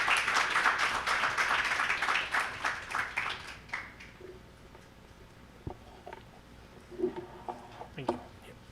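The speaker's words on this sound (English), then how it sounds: "let's give him one more round of applause" An audience at a BSidesLV security conference applauds a speaker, dense clapping that fades over a few seconds into scattered individual claps and a few faint murmurs.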